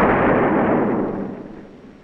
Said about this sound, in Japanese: しかし浅川博士、ロケットは大気圏に再突入する際に爆発してるんですよ。